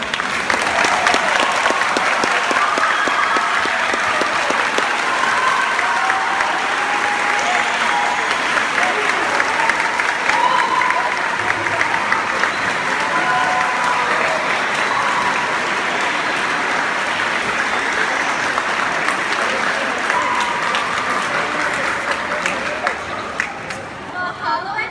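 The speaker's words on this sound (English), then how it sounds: "let's give our beginning band students, student conductors, symphonic band students, all soloists, and most importantly, Mr. Trella, a big round of applause for a job well done" An audience at a King Intermediate School symphonic band concert applauds loudly and steadily, a dense wash of clapping with crowd murmur that carries on for a long stretch before easing slightly at the end.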